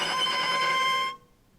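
A cello's high note bowed too far from the bridge in first position, giving a thin, glassy tone with many bright overtones, sustained for about a second and then cut off, heard alone.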